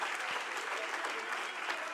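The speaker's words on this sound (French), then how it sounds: "voulez-vous applaudir le Seigneur?" A church congregation at a Pentecostal conference applauds in praise of the Lord, a dense, steady wash of many hands clapping at once, sustained evenly throughout without a break.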